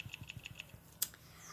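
Quick light clicks from a computer keyboard set to a custom key sound, a short run of evenly spaced keystrokes followed by one sharper click, close and fairly quiet with no talking.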